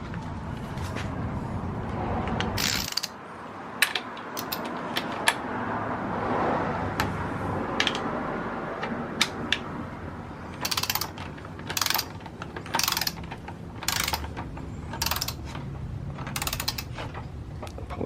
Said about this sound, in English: I've got my torque wrench set to 42 foot-pounds, as you can see